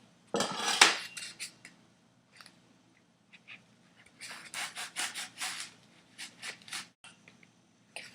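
A blade slices through a foam pool noodle in bursts of squeaky, rubbing cuts. The cuts come close and intermittent, with quiet gaps between strokes.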